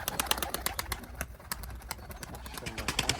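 Original Çiftepe pigeons cooing close by in a loft, soft repeated calls with occasional wing flaps, brief talk faintly in the background.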